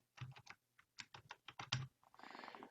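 Typing on a computer keyboard to enter a chat message, a quick, irregular run of close, crisp key taps followed by a denser burst of rapid keystrokes.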